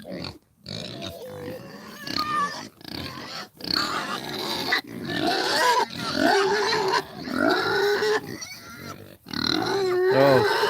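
Pigs on a farm grunt and squeal in short, repeated bursts, up close, while a person talks over and between the animal sounds.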